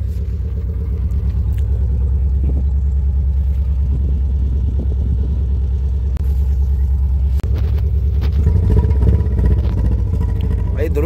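Nissan Skyline R32 engine idling and revving, a steady deep rumble with occasional sharp exhaust pops and bangs, loud and close, building slightly toward the end.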